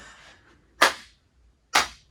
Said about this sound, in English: I'm going to do the clap test from every point that I can